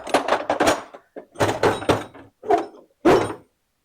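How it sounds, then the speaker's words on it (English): A toolbox drawer on a slide that has been bad for about fifteen years is pushed and pulled, giving several clunky, scraping thunks in uneven bursts with short pauses between. "drawer slide"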